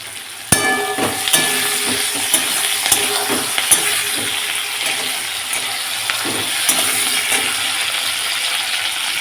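Two kadai pans sizzle steadily on the stove, one with tangra fish curry and sliced onion, the other with fenugreek greens. Metal spoon clinks and scrapes punctuate the continuous frying hiss.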